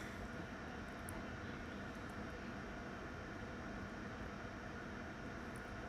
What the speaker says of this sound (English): it's definitely my computer's fans working very, very hard